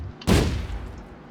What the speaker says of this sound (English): Now let's try Hawkeye fuel tanks, because upon destruction they will also cause an explosion.